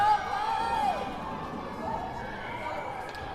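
Hockey game crowd at a WinterFest shootout between Arvada and Lafayette cheers and murmurs in a rink, a steady roar with a shout early on, under a commentator's voice.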